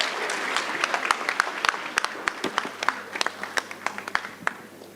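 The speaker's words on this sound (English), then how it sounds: "Can we give them a round of applause" Audience applause at an energy conference, a moderate crowd clapping in quick, scattered bursts that stay fairly distant and fade slightly toward the end.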